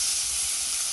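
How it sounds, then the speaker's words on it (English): A fry-up sizzles in a hot pan with a loud, steady, close hiss that holds unbroken for a moment. "So I'm gonna let that fry up for like 2 minutes"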